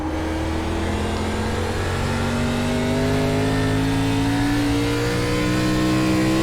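A race car engine in the iRacing ARCA Series at USA International drones loudly and continuously, its pitch rising steadily as the car accelerates, with other cars' engines blending in the background.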